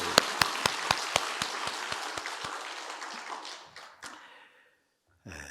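A church congregation bursts into applause during a Sunday service, sharp scattered claps at first settling into a steady wash of clapping that fades out, with a brief voice at the very end.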